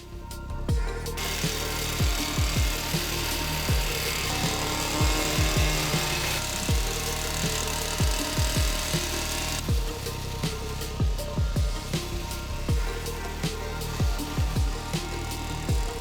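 A hedge trimmer cuts back ornamental grass outdoors in Dallas, Texas, giving a steady buzzing drone broken by repeated sharp snips and rustling as the blades work through the stems.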